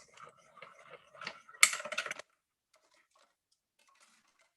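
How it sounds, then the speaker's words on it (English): Paper runs through a small hand-cranked mini cut and emboss machine while card-making with stamps, a short burst of quick clicking and ratcheting for about half a second, then silence. "so we'll run that through the little mini cut and emboss"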